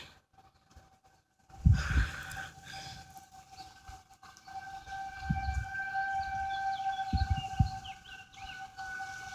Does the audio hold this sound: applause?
no